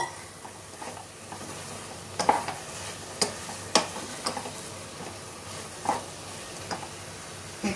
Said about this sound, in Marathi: आता त्याच्यात आपण हे ड्रायफ्रुट्स मिक्स करणार आहोत.